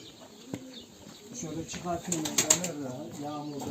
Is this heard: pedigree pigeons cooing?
yes